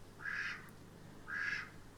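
Two distinct quacks from ducks along the River Teith, fairly faint and a little distant, spaced about a second apart over a quiet background hum.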